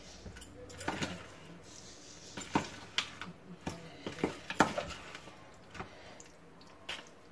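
Chicken leg pieces are mixed in a pot, producing wet, squelching slaps and soft clinks in an uneven rhythm, close and moderately loud, with no talking.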